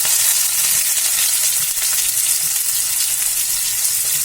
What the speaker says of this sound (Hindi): इसके बाद इसमें मैं प्याज डालूंगी।